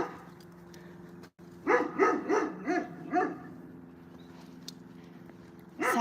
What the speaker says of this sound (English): Yes, you have the loudest bark in town.